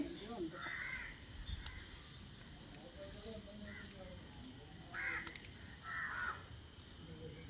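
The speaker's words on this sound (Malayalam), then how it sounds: "അപ്പോഴാണ് കാക്കകളൊക്കെ ബലിക്കാക്കകളൊക്കെ വരുന്നത്" Several crows caw in short bursts at a distance over a faint outdoor background, with a pause between calls, during a Karkidaka Vavu offering ritual in Kerala.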